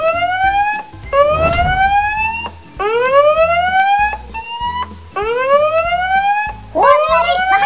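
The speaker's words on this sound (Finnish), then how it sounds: "Ja vielä autosta löytyy sireeni." A Paw Patrol toy car's electronic siren wails in repeated rising sweeps, loud and close, broken by short clicks and brief pauses between cycles.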